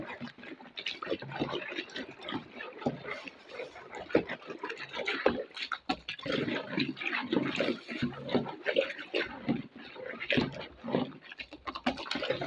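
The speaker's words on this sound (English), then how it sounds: "Pour in gently, gradually, and stir." Liquid is poured gently and stirred in a container while making homemade liquid detergent, with a continuous splashing, sloshing wash of sound and voices talking faintly underneath.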